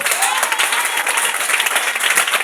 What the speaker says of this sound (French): Donne-moi encore une acclamation